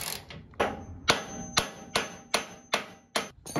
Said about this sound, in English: so I had to get out my hammer again and bang it out the rest of the way